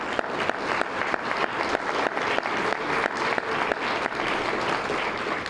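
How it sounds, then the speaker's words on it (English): A room of guests at a Chamber of Commerce awards gala applauding departing board members, dense steady clapping close by with a few sharper claps standing out, no talking. "So let's give them a"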